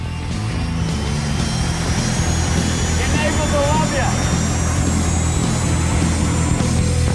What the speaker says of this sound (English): It sounds like a jet engine. It sounds exactly like what you'd hear at the airport.